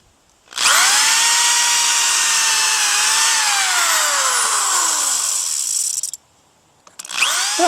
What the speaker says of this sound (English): So watch Jerry drill the holes and then get the screws in.